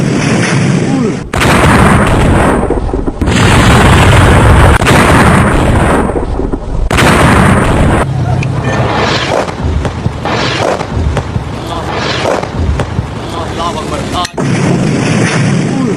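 Missile strikes and explosions on militant targets in Pakistan, from news footage, sound as a barrage of heavy booms and rumbling blasts, loud and sustained across the clip, with a faint voice underneath.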